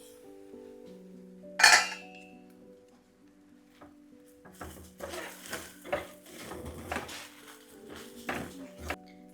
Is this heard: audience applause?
no